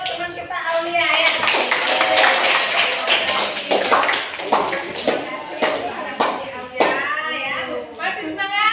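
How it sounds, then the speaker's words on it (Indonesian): A classroom of Indonesian students applauds a classmate named Aulia, with scattered clapping and taps running through the clip alongside children's voices. "Kita kasih aplaus dulu untuk teman kita Aulia ya"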